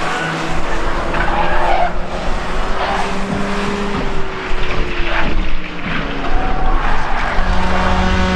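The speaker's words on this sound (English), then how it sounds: "Off goes the 98 car into the barrier." The number 98 race car skids at South Boston Speedway, its engine whining and tires scrubbing loudly over steady track noise, the roar rising and falling through the slide toward the barrier.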